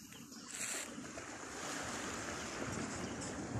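Morning sea waves washing onto a beach in front of a hotel at Songkhla, Thailand, a steady soft wash of surf mixed with light wind noise, fairly distant and even throughout, no talking.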